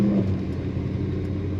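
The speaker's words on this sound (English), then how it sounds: "Today we're driving a 1966 Dodge Charger." 1966 Dodge Charger, red with an automatic transmission, rumbling steadily while driving, a low continuous engine drone heard from inside the car.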